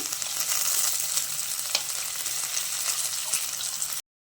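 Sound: green chilies, carrot and coriander frying in oil

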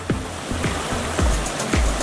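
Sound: creek water flowing during a dog's bath

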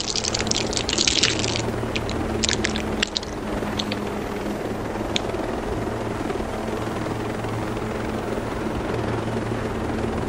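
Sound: helicopter in video game Ghost Recon Breakpoint

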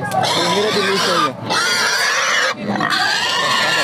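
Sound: pigs grunting at a pig market

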